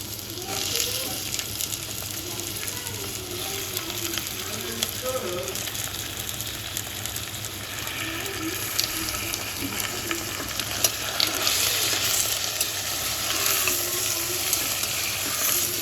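Chicken pieces frying in hot oil for a Sunday chicken gravy, giving a steady broad sizzle that holds for the whole stretch, with scattered clicks and scraping under it and a few faint tonal sounds in the background.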